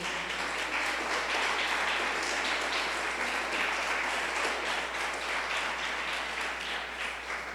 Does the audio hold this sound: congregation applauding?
yes